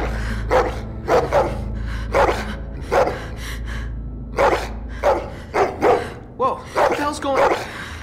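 A dog barks repeatedly in The Walking Dead: The Final Season video game, a series of sharp, fairly close barks in irregular bursts over a low steady rumble of game ambience.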